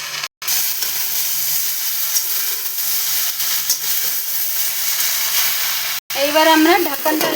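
Fresh leafy saag greens sizzle loudly in hot oil after salt is added, a steady broadband frying hiss that runs almost unbroken, with a brief gap near the start and another near the end, where a voice comes in over the sizzle.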